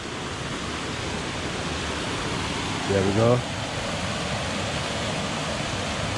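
Water spilling over a wide weir on a crags walk, a steady broadband rush throughout, with someone briefly speaking partway through.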